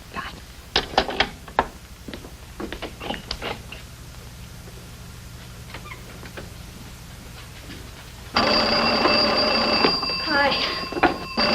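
A telephone rings indoors in a 1950s household, a steady bright electric bell that starts partway through after several seconds of quieter knocks and movement, then continues loudly to the end.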